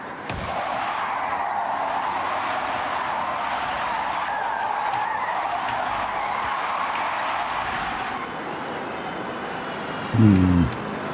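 Car drifting in Forza Horizon 6, a steady engine roar with tire skid hiss sustained throughout and a brief thump near the end.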